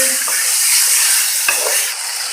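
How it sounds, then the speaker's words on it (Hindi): Chicken pieces for a chicken roll paratha fry in hot oil in a pan, a loud continuous sizzle with a brief utensil knock, up close and alone. "ये ऑयल गर्म हो चुका है। अब इसमें चिकन शामिल करूँगा।"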